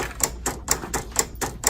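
A Silhouette digital die cutter runs a short test cut, giving off a series of quick, evenly spaced mechanical ticks and whirs, close and moderately loud, with no voices.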